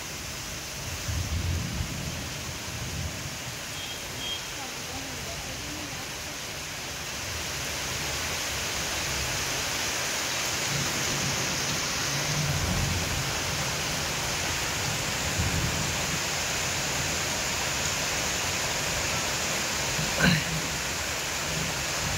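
Heavy rain pours down over an empty street beside a madrasa in Jashore, a constant broad wash of noise with a faint low rumble, steady and enveloping, with no voices.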